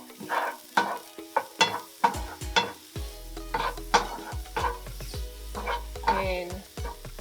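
A spoon scrapes and clatters against a pan as a smoky rub is mixed in for vegan Vietnamese pho, a series of close, distinct knocks and scrapes over a light sizzle.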